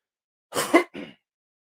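Two quick, rough coughs in close succession, close up and fairly soft, with silence around them.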